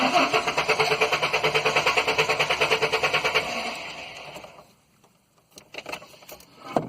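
A car with a blinking theft light cranks repeatedly in a fast, even rhythm for several seconds without catching, then the starter stops and a few faint clicks and knocks follow.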